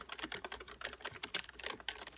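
Rapid, hard typing on a SteelSeries Apex 3 gaming keyboard with quiet keys, a dense run of soft, close clicks and thuds with no voice.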